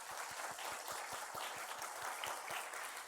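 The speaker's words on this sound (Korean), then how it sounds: "우리 개업 축하의 박수 한번 하겠습니다." A church congregation claps in congratulation of a newly opened shop beside the church, a steady wash of applause with regular low thumps underneath, continuous and moderately distant for the whole stretch.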